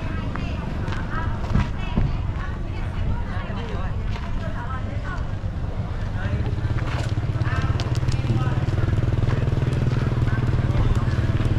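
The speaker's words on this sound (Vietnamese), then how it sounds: "Xe máy này." A motorbike runs with a steady engine drone that grows nearer and louder as it passes, amid busy tourist-area background noise near a cable car station, with someone talking over it.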